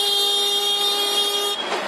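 Vehicle horns blare in New Delhi traffic, a loud sustained chord of overlapping honks that holds steady and then cuts off abruptly near the end, leaving street noise.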